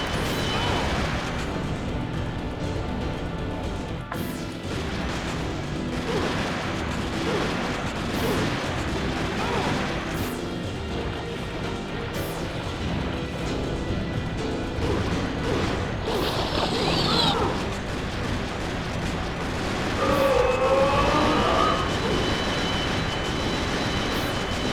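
Rapid gunshots in the Vampire Night arcade game, fired as fast as possible at a boss, a steady stream of booming hits under dense game music and effects.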